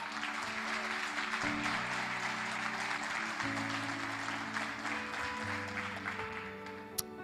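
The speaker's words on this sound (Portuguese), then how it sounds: "Você pode aplaudir bem forte ao Senhor?" A church congregation applauds over a sustained musical backdrop of held organ-like tones, the clapping a steady moderate patter throughout, ending with one sharp clap.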